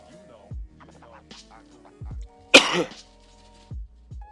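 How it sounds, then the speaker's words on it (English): A single sharp, rough throat clearing stands out between low rumbling thumps and faint background tones. "I had to clear my throat there."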